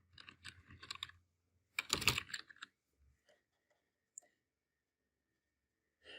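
Typing on a computer keyboard, a few quick clusters of close key clicks followed by a louder burst of strikes, then sparse single taps amid quiet.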